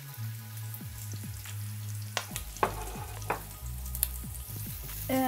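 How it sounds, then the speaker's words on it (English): Onions sautéing in oil in a pan for Filipino bam-i, a steady close sizzle with a low hum beneath and a few soft clicks and scrapes of a utensil against the pan. "I'm just gonna give it a little time to drench in the oil and cook and saute"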